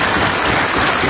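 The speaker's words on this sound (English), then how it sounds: "We want to give the Most High Yahushua another round of applause for bringing these brothers together" Dense, loud round of applause from a summit audience, a continuous close wash of many hands clapping.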